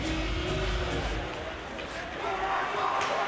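A hockey arena crowd murmurs and buzzes after a goal, a dense distant roar of many voices that swells slightly toward the end.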